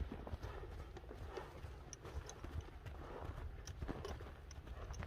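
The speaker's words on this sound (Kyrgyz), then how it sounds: "Жоон ат экен бул." A heavy, thick-bodied horse walks along, its hooves clip-clopping in a steady repeated rhythm, fairly close but quiet over faint background noise, with no talk in the clip.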